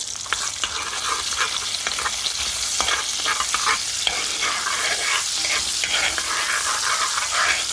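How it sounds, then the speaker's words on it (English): Loud, close sizzling and crackling of pork fat (tocino) frying in a caldero pot, continuous hiss with scattered pops and occasional stirring scrapes. "my tocino is sizzling up in the caldero"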